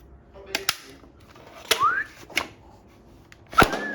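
A video game gun fires in rapid sharp cracks, several bursts spread through a mostly quiet stretch, each shot crisp and close and trailed by a short whistling ricochet tone.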